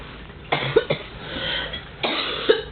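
A few short coughs, close by, spaced out over a couple of seconds with quiet pauses between.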